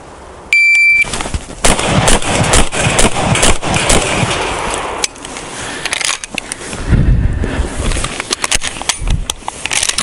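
A shotgun firing birdshot shells on a Bianchi shooting setup, with a beeping shot timer at the start followed by a rapid string of loud, sharp blasts in close succession, heard nearby.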